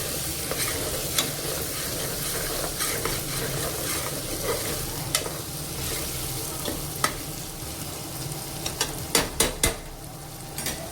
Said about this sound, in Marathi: आता 1 मिनिटभर आपल्याला ह्या टोमॅटोला छान परतवून घ्यायचं आहे.